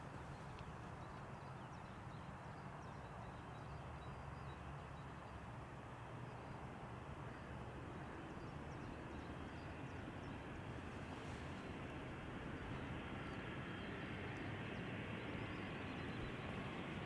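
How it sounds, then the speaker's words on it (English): A German Airways Embraer 190 jet at Schiphol Airport rumbles steadily in the distance, a continuous broadband engine roar that holds at an even level and builds slightly toward the end. "In the background, German Airways Embraer 190."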